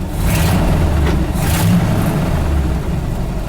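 A 1978 Ford F-700 truck engine revs steadily at around 1500 RPM, a continuous loud low rumble with a slight rise and fall in pitch, heard alone.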